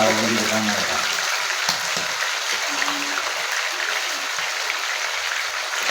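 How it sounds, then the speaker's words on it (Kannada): Chicken dropped into hot oil sizzles and spatters as its water bursts, a loud, dense, continuous crackling hiss close by, with a voice speaking over the start. "ನೋಡಿ ನೀರು ಸಿಡಿಯುತ್ತೆ"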